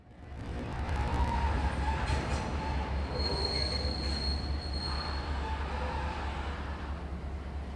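An excursion train hauled by electric locomotive EF 30192 on the Raurimu leg gives a steady, loud high-pitched wheel squeal over a constant low rolling rumble, sustained throughout.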